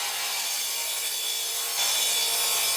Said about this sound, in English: This is where the radial arm saw really shines.